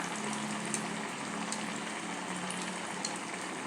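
Vadas of rava and rice flour frying in oil over a medium flame, a soft, even bubbling sizzle that stays faint and steady throughout, with no voices.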